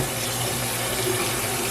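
Cold tap water runs steadily over green beans in a kitchen sink, a close, constant splashing hiss with no pauses.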